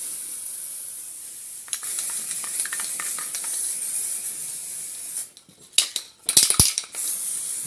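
Steady hiss of an aerosol can spraying black paint over a rusty, welded tractor platform, long continuous bursts broken near the end by a few sharp knocks and rattles.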